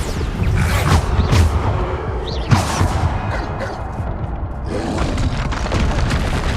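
Bombarda spell explosions in the game Hogwarts Legacy: heavy booms and crashes thudding in a dense, loud stretch of combat noise, with whooshes and a sharp hit near the middle.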